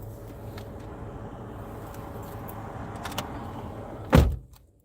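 A door bangs shut with a single sharp thud near the end, standing out against a steady low background hum.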